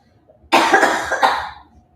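A single close, loud cough, with a second smaller burst right after, then quiet.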